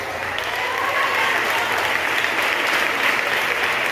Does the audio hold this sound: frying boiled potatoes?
no